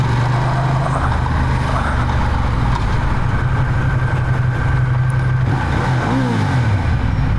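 A Ducati Diavel motorcycle engine runs steadily throughout, a continuous low rumble with a slight pitch shift near the end as the rider changes gear at moderate revs.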